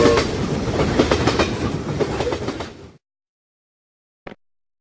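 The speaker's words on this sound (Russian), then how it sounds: "Поезд." A train rolls past with rhythmic clickety-clack of wheels over rail joints, loud and near for about three seconds before cutting off, then a brief faint click.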